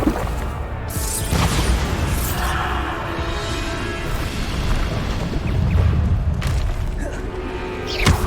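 Bombarda explosion spell cast in Hogwarts Legacy, a steady roar of booming blasts and crashing debris lasting several seconds, with sharper bursts near the start and end.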